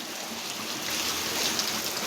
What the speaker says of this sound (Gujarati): હા, જો પાણી આવે છે ટાંકામાં